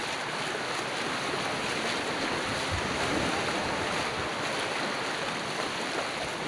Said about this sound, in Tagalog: Ang dagat po.